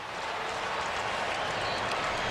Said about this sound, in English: It was almost a mocking cheer for Georgia Tech there